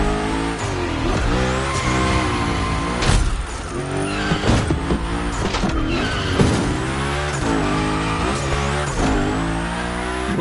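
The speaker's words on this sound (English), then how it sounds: "We're focusing on Gymkhana essentials, big slides, and precision" A racing car in a Gymkhana training session of a PS4 driving game slides through big drifts, its engine revving and tires squealing loudly in repeated waves, with no talk.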